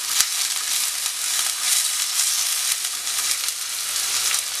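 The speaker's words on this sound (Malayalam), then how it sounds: "ഇഞ്ചി ഉള്ളിയൊക്കെ ഇട്ടൊന്ന് വഴറ്റിയെടുക്കണം" Ginger and onion sautéing in a pan for a Kerala-style sardine and mango curry, producing a loud, dense, continuous sizzle with one sharp tap at the start, close up and without speech.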